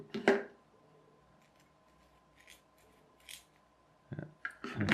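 Scissors trim glued material on a small handmade model: a sharp close snip at the start, a few faint cuts in the middle, then a quick cluster of crisp snips at the end, set against near silence.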